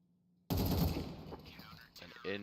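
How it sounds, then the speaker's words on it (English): Rapid auto sniper rifle fire in a CS:GO tournament match, a dense burst of loud shots with a few trailing cracks, mixed with commentator speech. "Bringing out the auto sniper"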